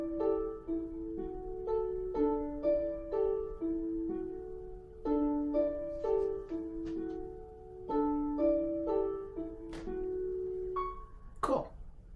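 An orchestral mockup of harp, a second harp and vibraphone playing in unison, bright plucked and struck notes in a gentle repeating pattern with ringing resonance, ending in a brief higher flourish, clear and without speech.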